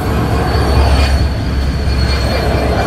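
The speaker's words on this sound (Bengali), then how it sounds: "ওই যে লোকোমোটিভ চলে যাচ্ছে" A broad gauge diesel-electric locomotive, number 6301, rolls past with a steady, loud rumble of engine and wheels on rail, a continuous close pass with faint wheel squeal.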